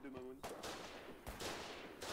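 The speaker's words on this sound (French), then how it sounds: "Il y a un canon de 68 qui tire sur de l'infanterie." Cannon fire from a 68mm gun aimed at infantry in the war game Foxhole, heard as a few sharp booming reports spread over two seconds, with a short voice-like tone at the very start.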